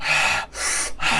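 A voice mimics forced holotropic breathing with three sharp, loud breaths through the nose and mouth in quick succession, separated by brief pauses.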